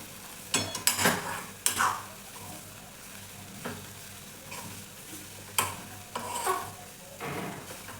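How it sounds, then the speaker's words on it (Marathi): Semolina and potato mixture being stirred in a pan, with a series of loud, scraping strokes and clicks of the spoon against the pan bursting out at irregular intervals over a soft background sizzle. "व्यवस्थित मिक्स करत राहायचं आहे"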